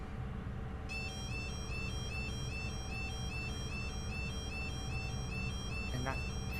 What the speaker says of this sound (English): that's the sound of the level crossings, letting the cars know that the train is coming